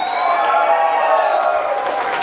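An audience at an education event rising to welcome a speaker with loud cheering, whoops and applause, a dense, sustained crowd roar filling the room.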